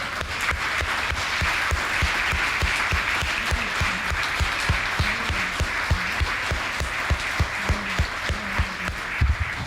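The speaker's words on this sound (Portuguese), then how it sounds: "Vamos aplaudir." Church congregation applauding during a sermon, sustained dense clapping that fills the whole stretch at steady strength, with a few louder individual claps and low thumps near the end.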